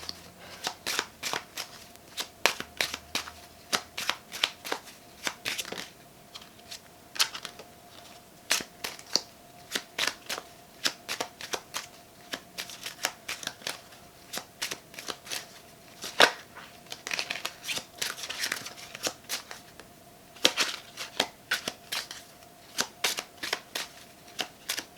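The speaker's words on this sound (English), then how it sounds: "two cards that flipped over in the deck while I was shuffling but didn't fall out" A deck of tarot cards is shuffled close up, with rapid bursts of riffling card clicks that come in repeated runs, with brief pauses between them and no talking.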